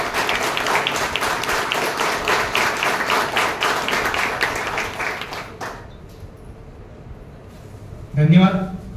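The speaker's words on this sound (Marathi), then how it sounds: "आपण सगळ्यांनी जोरदार टाळ्या वाजवूया." Audience clapping at a Marathi book launch ceremony in Pune, a loud sustained burst of applause from a crowd that fades out, followed by a brief spoken word.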